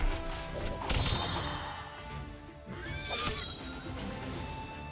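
A horse whinnies amid a Wargroove video game battle, over crashing and whacking combat effects and a dense musical backdrop; a second high cry follows shortly after.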